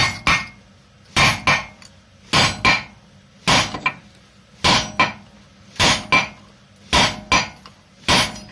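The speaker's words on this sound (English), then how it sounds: "So use a copper hammer to make sure" A copper hammer strikes parts on a Honda Jazz during a clutch change, delivering sharp metallic knocks in paired double blows. The pairs repeat at a steady pace about once a second, loud and close, with no voices.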